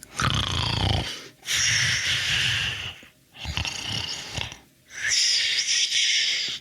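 A violin imitates a snoring dog in Vivaldi's Spring, playing rasping, growly sustained strokes in four loud bursts separated by short pauses, like heavy breaths in and out.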